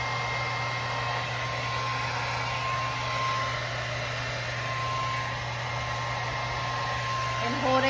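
A hair dryer blows on scrunched hair with a steady, close whooshing drone and low motor hum that holds throughout, with a voice speaking over it.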